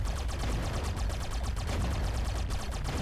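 Rapid, evenly spaced gunfire from The Mummy Demastered game, a dense machine-gun-like rattle repeating steadily throughout at strong level with no pauses.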